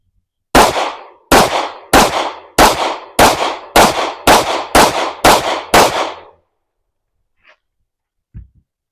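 Ten sharp pistol shots from a Custom Works Defender are fired at an even, fast rhythm during a shooting drill, loud and close, then silence with a couple of faint clicks.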